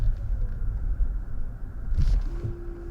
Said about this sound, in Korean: 오토홀드가 걸릴 때마다 그 전자식 파킹 브레이크 잡히는 소리가 들리거든요.